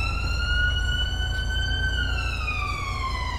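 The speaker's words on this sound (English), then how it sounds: "God, those sirens are horrible." Police sirens wail in the video game GTA 5, a loud close electronic tone sliding slowly up and down in a continuous sweep over a low engine rumble, with no talking.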